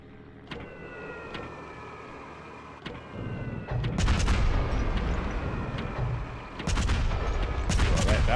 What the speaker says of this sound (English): Try and get some bombs on target.